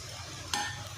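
Hand-crushed whole spices, curry leaves, coriander seed and dried chillies hit a pot of hot oil for deggi-style chana pulao, giving a brief sharp sizzle over a steady frying hiss.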